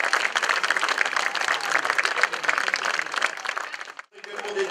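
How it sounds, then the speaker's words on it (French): Steady crowd applause at a Breton cycling stage-race podium ceremony, dense and continuous for about four seconds, then a sudden drop to quiet with a faint tone afterward. "Sur vos applaudissements pour Maxime Cam"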